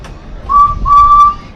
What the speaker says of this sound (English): Are you making Thomas whistle?